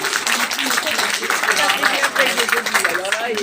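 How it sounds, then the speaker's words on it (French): Outdoor rally crowd applauding city street-cleaning workers, a dense, steady wash of many hands clapping close by with voices mixed in throughout. "qu'on applaudisse ici les agents de la ville du service propreté qui ont nettoyé le quartier depuis lundi"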